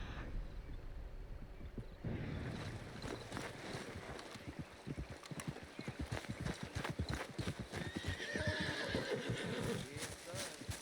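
A horse whinnies near the start, then hooves clop rapidly and steadily at a gallop in the video game Red Dead Redemption 2, with a voice talking over the movement.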